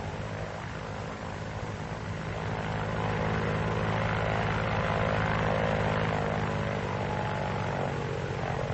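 An F4U Corsair's propeller engine drones in a steady, loud, unbroken roar that swells slightly after the first few seconds, with no voices over it.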